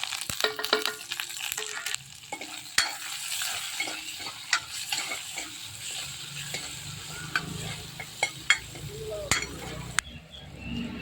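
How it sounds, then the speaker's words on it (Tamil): Onion, cinnamon, dried chilli and curry leaves tempering in hot oil crackle and sizzle, while a spoon scrapes and clinks against the pan in irregular bursts, close and moderately loud. "இப்போ பார்த்தீங்கன்னா வெங்காயம் நல்லா தாளிச்சிருச்சு"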